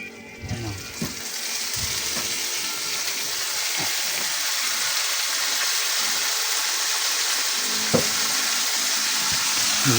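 Mole crickets (kamaru) frying in hot cooking oil give a steady, dense sizzle and crackle that runs the whole time, with a few sharper pops and faint clinks of a stirring utensil.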